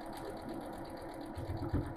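Sewing machine running steadily along a quilt block seam, a continuous close mechanical whir with a slight surge and heavier thumping toward the end.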